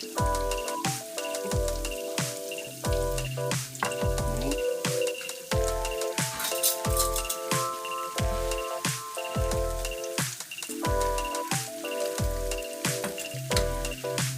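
Zucchini fritters fry in hot oil with a constant crackling sizzle beneath rhythmic background music, with no talking.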